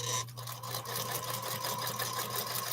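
Sewing machine stitching half-square triangle quilt blocks on foundation papers, a steady fast mechanical whir with rhythmic needle chatter, close and continuous throughout.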